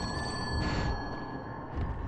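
A phone rings inside the Fatal Frame: Maiden of Blackwater horror game, a thin steady electronic tone with faint harmonic lines held across the whole stretch over low ambient rumble, with no talk.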